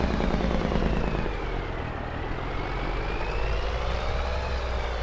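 A truck engine drones steadily while the truck drives on a farm near sugar beet fields, a continuous low rumble with a faint shifting whine above it and no talk.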